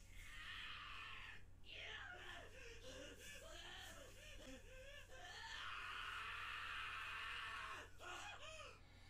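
Several people scream in an anime episode, with shrill, wavering cries repeating over roughly nine seconds, some rising into sustained wails, heard faintly under a background hum.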